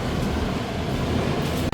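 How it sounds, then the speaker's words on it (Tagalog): A maroon LRT light rail train in Kuala Lumpur produces a loud, steady, close rumble with rail noise, ending in a sudden brief dip. "Ito yung sasakyan, yung kulay maroon na"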